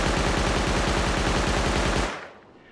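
Rapid automatic SMG fire in the console version of the game Rust, a steady loud burst of evenly spaced shots for about two seconds that then stops abruptly and fades into a short tail.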